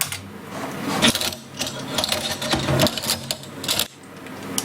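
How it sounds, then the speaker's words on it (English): Kitchen drawer full of dishes recorded at home as a foley sample, a busy run of clattering, rattling and clinking crockery with sharp knocks, close and loud. "the drawer with all the dishes"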